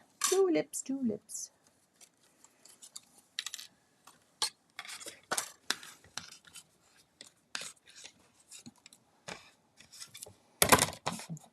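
Scissors snip through cardstock die-cut bicycle and tulip shapes at a craft table, giving a series of short, sharp cuts in irregular bursts, with a person talking between them.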